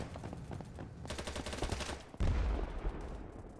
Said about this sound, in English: I fired my gun, and it stopped firing for about a second